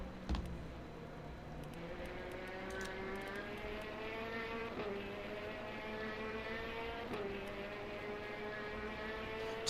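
Ferrari race car engine in the Le Mans Ultimate racing game, a steady high-revving drone with rising harmonic sweeps through gear changes, running continuously and fairly loud with no talk.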